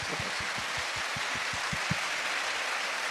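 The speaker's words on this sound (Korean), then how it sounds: "박수쳐, 박수쳐, 박수쳐, 박수쳐, 박수쳐." A church congregation claps in an even rhythm of about ten beats, a moderate unison clap that fades after two seconds into a steady background hiss.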